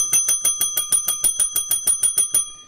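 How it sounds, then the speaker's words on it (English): A bell rings rapidly during a live stock-trading broadcast, about fifteen bright, evenly spaced strikes in a quick steady rhythm, loud and close, with no talk, ending in a short fading ring. "we're ringing the new bell"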